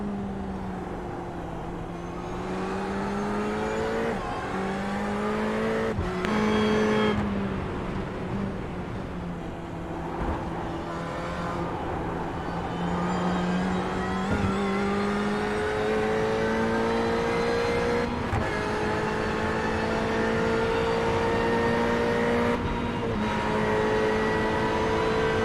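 Race car engines at Daytona International Speedway at night, in a racing video game, drone loud and close, with pitch climbing and dropping through repeated gear shifts and a brief throttle lift midway, no voices over them.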